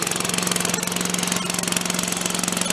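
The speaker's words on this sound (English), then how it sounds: "The Briggs and Stratton engine." A Briggs and Stratton engine running on a vacuum blower mounted on a 3-point hitch, with a loud, close, rapid chugging engine rhythm that holds steady throughout.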